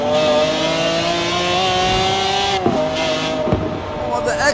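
McLaren F1 in the racing game Forza Horizon 4 revs hard, its engine note climbing steadily and then dropping sharply twice as it shifts, loud and close with a reverberant echo.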